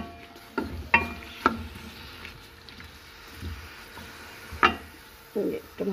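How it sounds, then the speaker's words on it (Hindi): Chopped onions go into hot oil in a pressure cooker and give a faint, steady sizzle. Several sharp stirring clacks and knocks sound against the pot, with a few soft scrapes near the end. "और ये मेरे पास जो प्याज मैंने काट के रखा था वो भी मैंने प्रेशर में डाल दिया। अब मैं इसको फ्राई कर लूँगी।"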